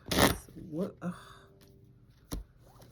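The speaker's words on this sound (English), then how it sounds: "I can't shuffle today." A deck of playing cards is riffled close up in a short burst of crisp fluttering, followed by softer handling noises, with a voice speaking quietly in between.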